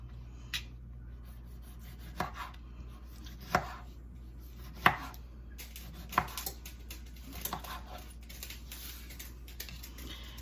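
A knife chops tomatoes on a cutting board in a home kitchen, giving sparse, crisp thuds spaced a second or two apart. A steady low hum sits underneath and nobody speaks.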